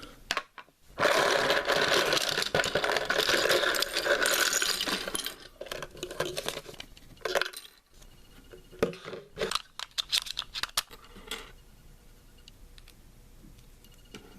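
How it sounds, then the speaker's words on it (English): A plastic LEGO canister from a 2001 dinosaur set is cracked open, with loud rattling and shaking of loose pieces followed by scattered clicks and clatter that taper off. "Crack this canister open."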